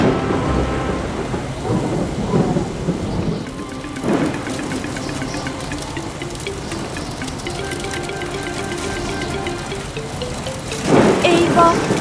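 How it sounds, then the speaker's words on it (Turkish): A cartoon thunderstorm rumbles with heavy thunder over constant rain, a loud crack near the start and another surge at the end, beneath a narrator's voice over a plane taking off. "Fırtına olacak gibi görünüyor."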